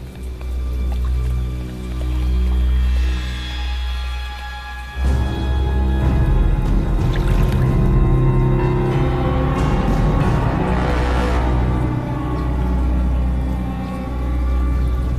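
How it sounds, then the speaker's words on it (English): Hands splash and churn river water to draw in a crocodile, with wet sloshing and dripping over a steady low rumble that runs throughout. "I use the vibration I make with my hands in the water to communicate with him"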